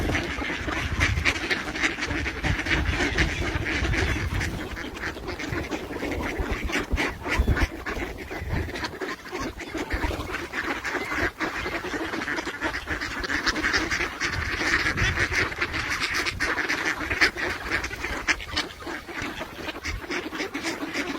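Ducks quack and honk in a dense, continuous chorus while being fed outdoors alongside pigeons, a busy squabbling frenzy of overlapping calls with no talk heard.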